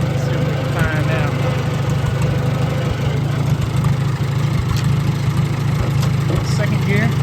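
A Farmall Super A tractor engine running through the gears, a loud steady low-pitched chug with a rhythmic idle-like throb, close by, with a voice talking over it at times.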